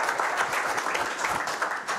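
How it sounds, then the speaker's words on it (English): Audience applause at a startup investor pitch event, a short stretch of moderately loud, dense clapping that holds steady throughout. "Applause."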